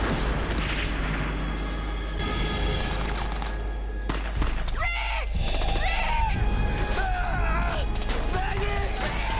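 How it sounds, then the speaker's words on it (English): Gunfire and booming impacts from a Walking Dead episode, sharp shots and heavier blasts scattered over a continuous dramatic soundtrack with voices mixed in. "did Oscar get shot"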